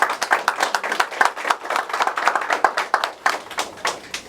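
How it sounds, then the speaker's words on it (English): An audience welcoming panelists at a Black author summit breaks into steady, dense applause, a close and lively round of clapping that continues throughout. "Let's welcome them as well with a round of applause."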